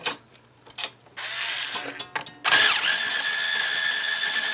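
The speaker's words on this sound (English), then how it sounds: "with my Ernie Ball string winder, we're going to wind" An Ernie Ball string winder turning a guitar string on a Danelectro 12-string, with scattered clicks and handling noise at first, then a steady whirring, ratcheting rotation that builds and holds close by.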